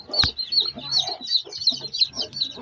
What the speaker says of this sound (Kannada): ಈಗ ಒಂದು ತಾಯಿ ಕೋಳಿನ ಇದ್ರ ಜೊತೆ ಬಿಡ್ತಾ ಇದ್ದೀವಿ.